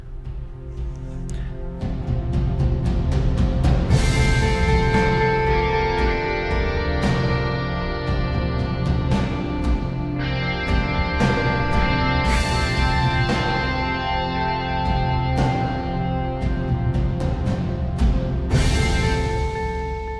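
Sports drama music builds as drums gather pace beneath layered electric guitars, with steady accents and repeated crashes over a dense, full mix lasting the whole stretch, no voices.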